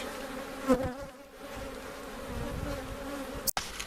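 A steady, dense hum of many honey bees buzzing around an opened hive during a spring inspection, with a constant drone and a brief knock near the end.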